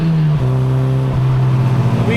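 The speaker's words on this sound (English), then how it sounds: "We get a little bit more subtle of an exhaust tone since it is just the muffler." A Mazda NC Miata fitted with a muffler-only exhaust, driving, gives a steady, fairly loud low exhaust drone that shifts pitch briefly a couple of times.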